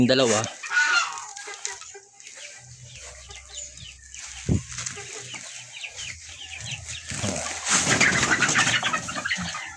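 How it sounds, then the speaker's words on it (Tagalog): Nearly two-month-old backyard chickens cluck and chatter in a steady barnyard hubbub in a rice-hull-floored coop, with a few louder calls rising near the end and faint background noise throughout. "So yung ating mga manok, malalaki na."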